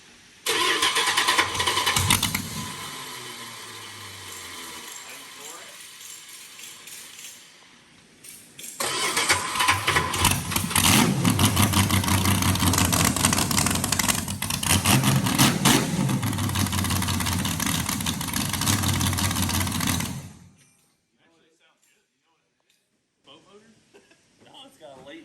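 A dirt late-model race car with a carbureted R-block engine cranks and fires, runs roughly, cuts out, then restarts and idles loudly for about ten seconds before shutting off, with people talking around it.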